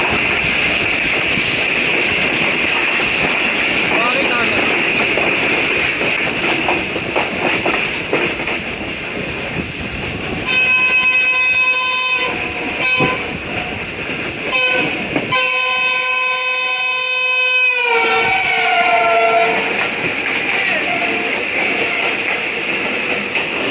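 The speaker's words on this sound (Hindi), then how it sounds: "This is 44 down in Shah Hussain Express." The Shah Hussain Express, a passenger train running as 44 down, rumbles loudly and steadily, with two stretches of blaring, harmonic horn blasts partway through.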